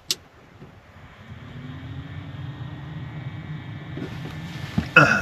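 A fuel-burning cabin heater, apparently on a boat trip on the Wda river, starts up with a click and settles into a steady low hum and drone, ending in a louder clatter.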